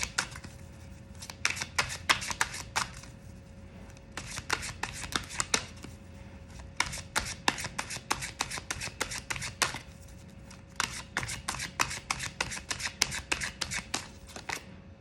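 Tarot cards are shuffled by hand in repeated riffling bursts of crisp, papery flicks and taps, close and fairly quiet, with no talking.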